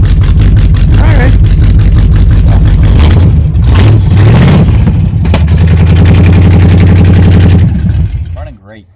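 A 1978 Chevy K10 truck that sat for 27 years, its engine running loud and close with a rough, uneven idle and a couple of revs, with voices mixed in, before cutting off at the end.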